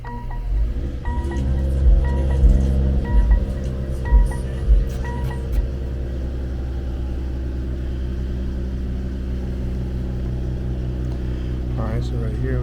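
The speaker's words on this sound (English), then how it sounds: "I'm gonna go ahead and start the car" A 2021 Mercedes-Benz GLE 53 AMG Coupe engine turns over and settles into a steady low idle rumble, with a few short thumps early on.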